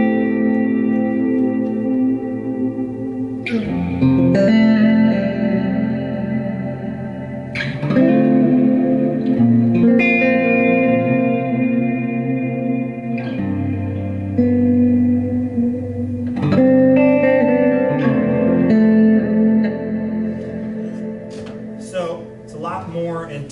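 An electric guitar played through a reverb effect strikes a few chords and notes, each swelling intensely at the attack and then ringing into a long, washy tail before the next strum.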